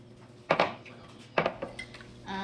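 Yeast mixture being stirred into croissant dough in a bowl, with two brief clusters of clinks and scrapes of a utensil against the bowl, close and fairly quiet, no talking.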